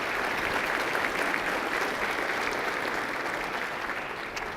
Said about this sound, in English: Let's give the Chamber and their team a round of applause.